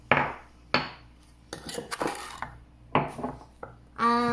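A utensil clinks and scrapes against a bowl while crushed sugar cubes are mixed for fudgy brownies. The taps and grinding scrapes are irregular and close, with no talking.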